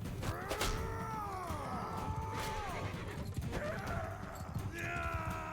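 Horse hooves clip-clop steadily in Mount & Blade II: Bannerlord, mixed with whinnying calls and creaking, all close and continuous.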